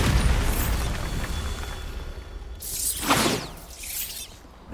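Bombarda blasting spell exploding in the Hogwarts Legacy video game, a rumbling roar followed by a loud boom with shattering, crackling debris around the three-second mark, then a second burst fading out.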